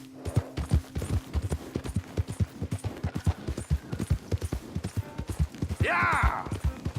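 A horse gallops in Red Dead Redemption 2, its rapid hoofbeats drumming in a fast, uneven rhythm close by, with a brief whinny near the end.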